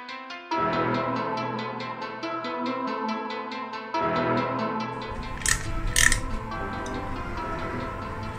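A ratchet wrench tightens the radiator fan mounting bolts on a Yamaha Y15ZR motorcycle, giving fast, even clicking in two close runs followed by a few looser metallic knocks, with no talking.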